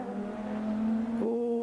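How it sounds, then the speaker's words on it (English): Lister Storm race car engine in the Assetto Corsa racing game, a steady loud droning tone that rises in pitch near the end as it revs, with no talk. "The engine sound is crazy."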